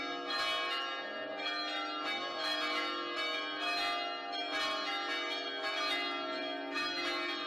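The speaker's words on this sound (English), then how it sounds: "Let me get a wedding bell sound effect." Wedding bells ring out as a sound effect in a sustained, resonant peal of overlapping chimes, with strikes repeating about once a second, moderately loud and heard alone.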